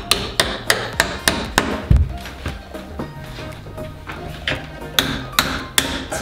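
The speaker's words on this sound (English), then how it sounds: "I'm pounding the pin back in, it's a little tight." Hammer pounding a bent steel door hinge pin back into a tight hinge, a steady series of sharp metallic taps struck roughly every half second, close and loud with one heavier thud midway.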